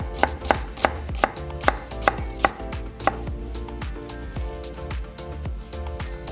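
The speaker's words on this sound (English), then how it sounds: "Start from the front and use the whole knife. Front, push forward, let the knife do the work." A knife chopping red onion on a cutting board, a run of sharp, evenly spaced close knocks that soften into lighter, quicker cuts toward the end.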